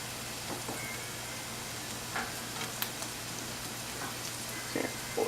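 Onions sautéing in a pan until translucent, a faint, steady crackling sizzle with scattered small pops and light scraping throughout, close but quiet and free of talk.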